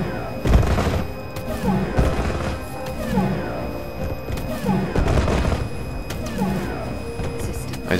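Pyro weapon fire in the space game Star Citizen, bursts of gunfire-like blasts and thumps repeating through the clip with a steady synthetic hum beneath.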